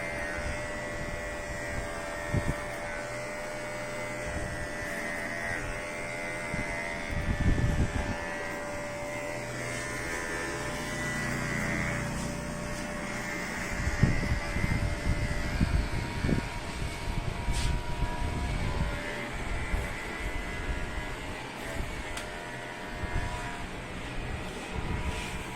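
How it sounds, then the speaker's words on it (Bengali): An electric hair clipper buzzes steadily and close up while trimming the longer hair on top of a head during a zero fade haircut, its hum swelling and dipping as it moves through the hair. "এবার আমরা চিরুন দিয়ে আমরা উপরের বড় চুলগুলো ছোট করে নেব মেশিন দিয়ে"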